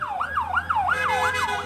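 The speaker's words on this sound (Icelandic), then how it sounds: "Enn eitt sjúkrabíllinn með öskrandi sírenur á leið á yfirfullt sjúkrahús á Gaza" An ambulance siren wails in Gaza, a fast rising-and-falling electronic yelp repeating steadily at moderate distance, with no talk over it.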